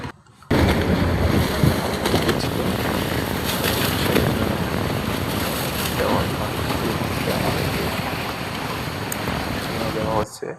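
Boat carrying passengers to an island on a New Year outing, engine drone and water wash running steadily under wind buffeting on the microphone, with people talking faintly at times.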